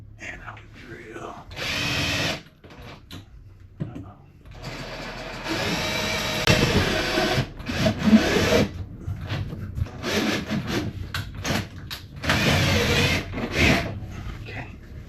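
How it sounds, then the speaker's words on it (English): A power drill bores a mounting hole for an RV accessory, running in several bursts of a few seconds each with short pauses between them. The drilling is close and moderately loud, with quiet background noise in the gaps. "And I'll drill."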